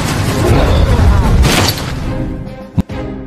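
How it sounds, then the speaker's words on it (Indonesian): Loud explosive booms and crackling bursts from fireworks set off in a Bigfoot horror film, a dense roar of blasts that fades and ends in one sharp late pop. "kembang api semakin membuat Bigfoot semakin marah."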